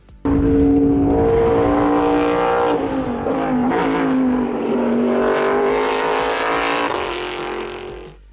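Toyota Prius GT race car with a front-mounted 5.4-liter V8 borrowed from the Lexus RC F GT3, a loud sustained engine roar holding steady and shifting pitch as it passes close by, with no talk.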